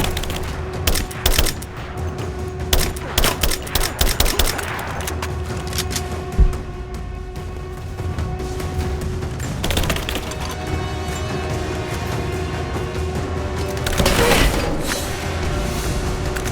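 Sustained gunfire from Rise of the Tomb Raider, with bursts of rifle and machine-gun shots rattling over a steady low combat rumble, punctuated by sharper cracks and a heavier boom.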